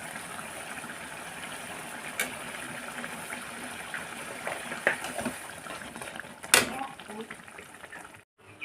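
Coconut milk boils in a pot for prawn biryani with a faint, steady bubbling and simmer, occasional louder pops and clinks, and a voice faintly present underneath.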